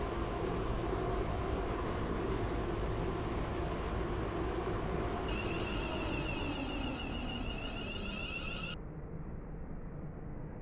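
A Class 350 train pulls into a platform at Stepford Central in a railway game, a low, even rumble of rolling noise with a bright, sustained whine rising over it for a few seconds midway before fading back.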